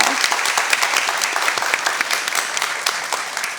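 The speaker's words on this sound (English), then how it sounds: "Let's give her a round of applause." An audience at a Prime Time For Women event breaks into sustained applause for an interior designer, a dense wash of many hands clapping steadily throughout with no voices standing out.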